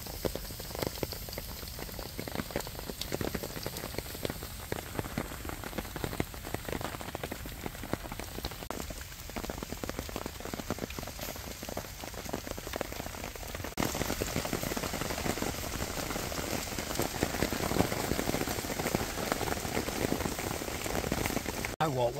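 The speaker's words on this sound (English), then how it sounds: "while I'm sitting under here now, and it is raining, it is dripping through." Steady rain pattering on a shelter overhead and dripping through, a dense hiss of drops that grows slightly louder partway through, with a voice speaking over it at times.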